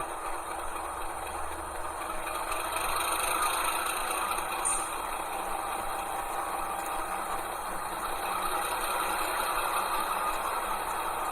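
NSW 48 class diesel locomotive engine running in a train simulator game, a steady, even, close mechanical drone with a faint rattle and no clear change in pitch or loudness.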